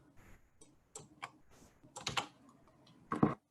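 Computer keyboard typing during a teaching workshop on the Mentimeter presentation tool: irregular bursts of close, crisp keystrokes separated by short pauses, with no talking.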